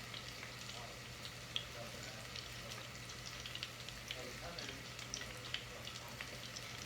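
Onion rings made from scratch fry in oil in a pan, a faint, steady crackling sizzle with scattered small pops, heard from a distance against a low background hum.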